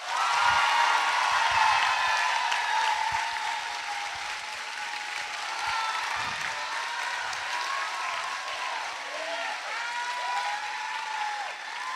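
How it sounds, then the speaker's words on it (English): Audience applause for the 2022 honor leaders at a June school showcase, a steady wash of clapping from a large crowd that holds strong for the full stretch with slight swells and no voices over it. "can we give a big round of applause for our 2022 honor leaders?"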